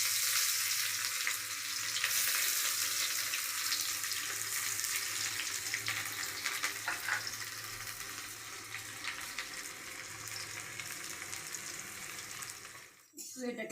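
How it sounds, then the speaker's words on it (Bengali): Chopped onions fry in oil with whole garam masala over lowered heat, sending up a loud, continuous sizzle with crackling spatters close to the pan; a brief clatter comes near the end. "পেঁয়াজটা ভাজা হয়ে এসছে"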